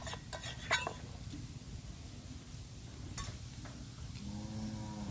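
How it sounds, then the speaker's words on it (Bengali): Sesame paste is stirred into water with a metal spoon, producing quiet scraping and a few sharp clinks against the bowl, faint and close, with low background hum. "দেখো তিল বাটার পেস্টটা কিন্তু ভালো করে আমি জলের সঙ্গে মিশিয়ে নেব।"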